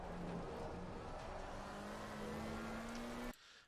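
A McLaren 720S EVO race car engine in Assetto Corsa Competizione at Misano revs up steadily under acceleration, its pitch climbing, then cuts sharply as the car upshifts into second gear.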